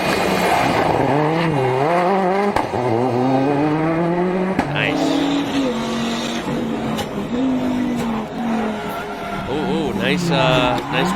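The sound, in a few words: Peugeot rally car driving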